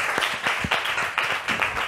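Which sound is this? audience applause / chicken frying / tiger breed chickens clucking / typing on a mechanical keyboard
audience applause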